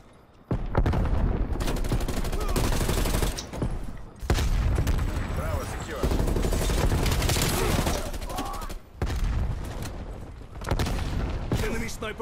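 Bursts of M4 rifle fire in Call of Duty Cold War on the Nuketown map, loud and sustained with brief pauses between volleys, mixed with game sounds and a talking voice.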